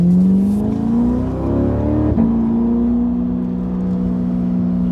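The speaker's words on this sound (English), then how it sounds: "we're driving in the C8 with the new exhaust, seeing how it sounds" A C8 Corvette with a LeMans Edition exhaust accelerates from inside the cabin. The engine drone rises in pitch, pauses briefly at a shift, then settles into a steady, loud cruising hum.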